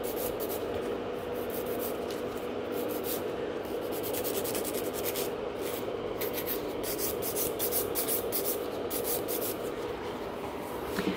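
Acrylic gel nails are filed close up with a steady, continuous raspy scratching from quick back-and-forth strokes, fairly quiet and uninterrupted throughout.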